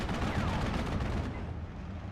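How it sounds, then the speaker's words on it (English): In the video game Steel Division: Normandy 44, Calliope rocket artillery keeps up a dense, continuous rumble of launches and explosions that stays loud and steady, and the din then tapers off slightly. "So the Calliope firing away."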